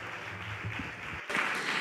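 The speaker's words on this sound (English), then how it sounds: "A warm round of applause for the director," An audience at a film award ceremony applauds a director, a steady dense patter of clapping from a crowd that swells louder toward the end.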